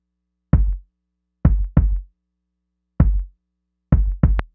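Two kick drum samples triggered together in a Pro Tools session, out of phase with each other: six heavy low thuds with a slightly hollow, smeared low end, in the same uneven pattern with silence between.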